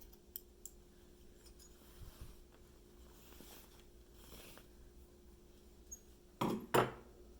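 Scissors snip through quilt binding fabric in two quick cuts near the end, preceded by faint handling noises in an otherwise quiet room.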